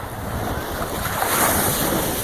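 Surf washing onto the beach at Magens Bay, a steady broadband wash of breaking waves with wind buffeting the microphone, continuous and fairly loud with no voices.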